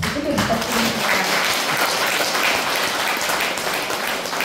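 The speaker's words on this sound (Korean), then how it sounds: "마지막으로 또 박수 크게 부탁드립니다" An audience applauds at the close of an Advent special lecture on the Eucharist given to adoration members and parishioners. Dense, steady clapping fills the room for the whole stretch without a break.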